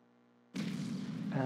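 Rocket engine igniting for a nighttime launch in Kerbal Space Program, a sudden loud roaring burst after a quiet tonal hum, sustained and swelling toward the end.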